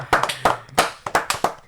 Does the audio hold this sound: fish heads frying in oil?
no